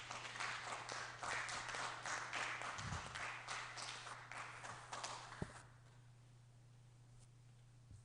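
An audience at a peace project gathering of an ecumenical and social relations department claps to welcome a speaker: dense, steady applause for about five seconds, then trailing off into a quiet room hum.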